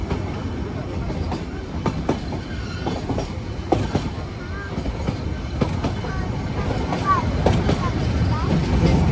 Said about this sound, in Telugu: మొత్తం ట్రైన్ వచ్చేసి మనకి కొండ చివార్లో వెళ్తుంది